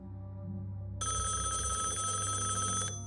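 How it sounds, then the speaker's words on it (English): A telephone bell rings in a tense, eerie drama, starting a second in and trilling steadily for about two seconds over a low droning background, with no one speaking. "The phone rings again."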